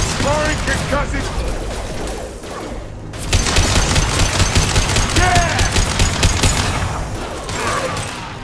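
Concussive shot firing during a Mass Effect 2 Legendary Edition firefight: loud, dense bursts of rapid gunfire and blasts fill the whole stretch, with a sharp surge in intensity partway through and voices mixed under the clatter.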